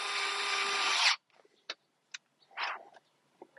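A power tool whirs for about a second, tightening the Acerbis fuel tank mounting bolts on a Honda CRF300L motorcycle. A few sparse clicks and short scrapes follow as the work continues nearby.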